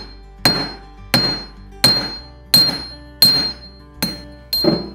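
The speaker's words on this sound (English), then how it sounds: "the more we hammer in one spot, the wider it will get there" A hammer strikes a silver cuff bracelet being forged on a metal surface: seven sharp, ringing blows at an even, unhurried pace, each decaying briefly before the next.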